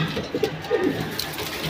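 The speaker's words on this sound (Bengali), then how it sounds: "এই হলো আরেক জোড়া কবুতর," Silver pigeons coo in soft, low, repeated bursts close by, with a steady faint background hum and no talking.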